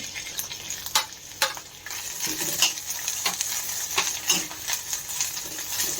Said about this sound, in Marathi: आता आपल्याला हे ओलं खोबरं आहे तर ते मी परत्याला घालत आहे